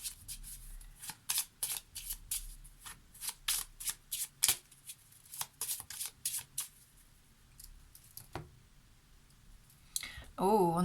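Lenormand oracle cards being shuffled by hand, quick bursts of crisp riffling and slapping in irregular clusters, close and soft, with a voice speaking briefly at the end.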